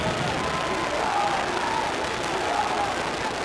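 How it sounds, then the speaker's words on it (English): Exuberant crowd in the Shoemaker Center basketball arena, home of the Cincinnati Bearcats hosting Indiana in 1992, a steady dense roar of cheering and chatter with no breaks, heard from courtside broadcast position. "Well, this is an exuberant crowd here on hand"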